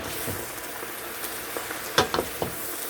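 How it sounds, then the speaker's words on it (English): Spinach is stirred in a pot over a faint, soft sizzle, with a few light scraping strokes and small clinks toward the end, quiet and close with no talking. "I'm just gonna give it a stir"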